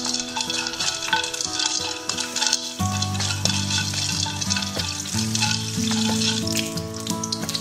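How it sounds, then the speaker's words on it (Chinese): Rock sugar melts in hot oil in a wok with a loud, dense sizzle and crackle that runs throughout, while a bright tonal melody plays underneath. "起锅烧油，放老冰糖熬至融化"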